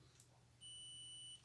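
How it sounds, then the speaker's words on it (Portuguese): A multimeter set to continuity mode, probes across a contactor coil, sounds one steady high-pitched beep of under a second against a faint low hum. "coloco lá no bip, ó."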